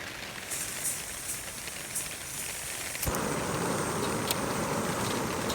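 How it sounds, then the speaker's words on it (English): Rain falls steadily on a campsite during an overnight backpacking trip at Oak Openings Metropark. It makes a continuous hiss of drops that grows noticeably louder and denser about halfway through, with no voices. "hopefully you can hear me over the rain"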